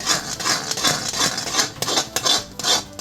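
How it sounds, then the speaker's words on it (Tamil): A ladle stirring thick beetroot malt mixture in a pan, giving close, rhythmic rubbing and scraping strokes repeated quickly and steadily, with no talking. "கிண்ட வேண்டியதான் கிண்டிக்கிட்டே இருக்க வேண்டியதான்."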